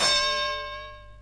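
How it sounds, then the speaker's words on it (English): A single strike of a wrestling ring bell gives one bright metallic ding that rings out and fades smoothly over about a second, close and alone. "Hit the bell."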